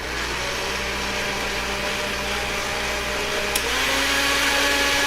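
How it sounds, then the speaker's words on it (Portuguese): A kitchen blender whirs steadily while a fruit smoothie is made, a loud continuous motor drone that rises slightly in pitch partway through, with no voices. "Meu irmão está fazendo vitamina. Um barulho, hein? Esse liquidificador."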